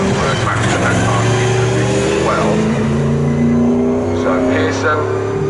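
Race cars accelerating through corners during qualifying at Snetterton circuit, several engines roaring and revving with rising and shifting tones as cars pass, loud and sustained, under continuous commentary.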